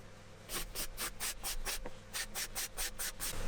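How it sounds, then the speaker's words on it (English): Rhythmic scraping on a stained wooden shelf of an Ercol Giraffe room divider, about a dozen short, evenly spaced rasping strokes, close and steady with no talk. "On this one the staining was a little bit worse, so I had to do some more scraping to remove it."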